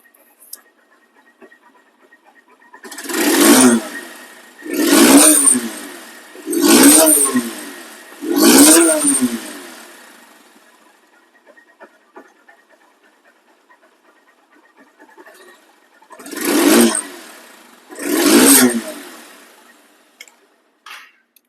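A second-hand double-disc motorcycle engine, near and loud, revved in short throttle bursts, four in quick succession, then a pause, then two more, idling quietly in between.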